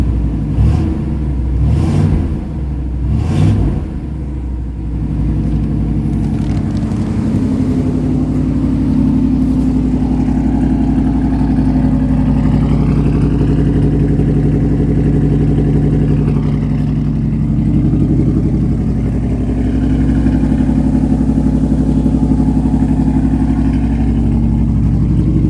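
A cold 1980 SE car engine with a boosted setup runs at high idle, a steady mid-pitched drone after a few sharp knocks at the start, close and continuous with no voices.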